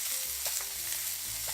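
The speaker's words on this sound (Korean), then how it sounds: "양파를 먼저 숨이 죽을 때까지 살짝 볶고 그 다음에 베이컨을 넣었어요." Sliced onions and bacon sizzle steadily in a hot pan while being stirred, a close, continuous hiss with soft scraping movements and no voices.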